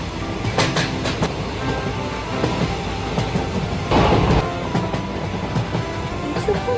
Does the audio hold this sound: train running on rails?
yes